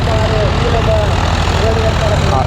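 A tractor engine drones steadily while ploughing a field in Polonnaruwa, Sri Lanka, a loud, continuous low rumble with an even mechanical pulse throughout.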